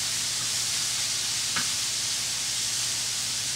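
Quesadilla filling sautéing in a pan makes a steady sizzle, close and continuous, with one brief clink of a utensil partway through.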